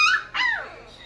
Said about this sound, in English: puppy playing with a ball